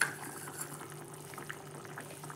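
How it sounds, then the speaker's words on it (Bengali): Fish curry broth with tender pointed gourd and small fish bubbles at a steady, low boil in a covered pot, a faint continuous simmer with soft pops and no voices. "তো ঢাকনাটা খুলে নেব, ঝোলটা ফুটে গিয়েছে"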